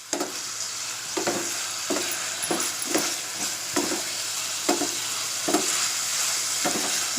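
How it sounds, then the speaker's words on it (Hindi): Prawns fry in oil with onions for a Konkani zinga masala, a steady sizzle broken by regular scraping stirs every second or so, close and fairly loud, with no voices. "ये झींगे सुर्ख होने तक, हम नए लाल होने तक इसे प्याज में भूनेंगे।"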